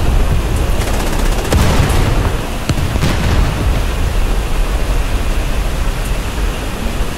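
Artillery fire booms through a War Thunder tank battle in a village featuring an American M4 Sherman, a dense continuous rumble punctuated by a few sharp, distant blasts, with no talking.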